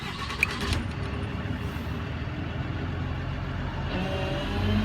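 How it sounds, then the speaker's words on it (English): A Generation 1 service truck's engine fires up, then settles into a steady, fairly close rumbling idle with no talk over it. "so the truck started back up"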